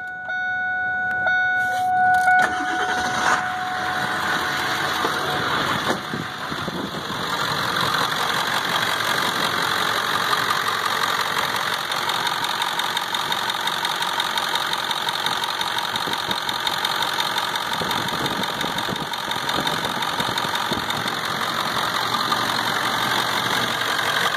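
A 1999 Ford 7.3 Power Stroke diesel engine with about 95,900 miles runs at idle, a loud, steady, close knocking clatter that continues unbroken after a brief start.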